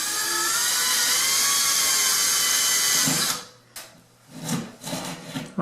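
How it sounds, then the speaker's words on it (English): A power drill bores holes sized for toggle bolts into a hollow wall while a double-curved shower rod is being fitted, a loud steady high-pitched whine for about three seconds that stops abruptly, followed by a few quieter knocks and handling sounds. "I'll drill some holes that are the right size for the toggle bolts I'm using."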